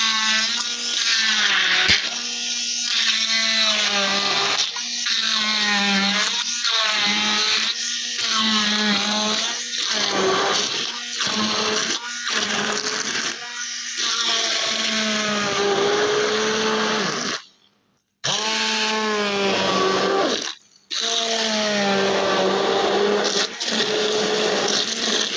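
Kitchen blender grinding strawberries into a puree for homemade strawberry ice cream, a loud steady whir with changing pitch that runs almost continuously, broken by two brief pauses near the end.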